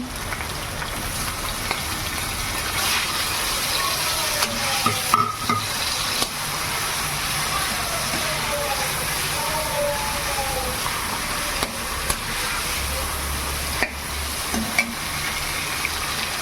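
Sliced tomato cooks in a hot pan for a Bengali rajma curry, giving a steady, even sizzle and frying hiss throughout, with occasional small clinks and stirring sounds and no talk.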